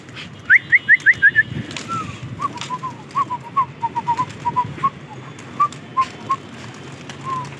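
Birds call on a rooftop where pigeons are kept, a quick burst of five sharp chirps followed by scattered single calls, over a low steady background hum.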